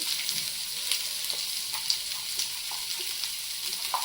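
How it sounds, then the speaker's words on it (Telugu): Finely chopped onions frying in a pan for a drumstick and egg curry, a steady close sizzle with light crackles and occasional stirring scrapes. "ఆనియన్స్ వేసేసి చక్కగా కొంచెం వేగిపోయే వరకు మనం ఉండనియాలండి."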